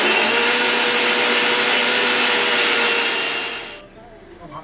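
An electric mixer grinder blending a garlic spice paste, a loud steady whirring roar that winds down and stops near the end, with no talk.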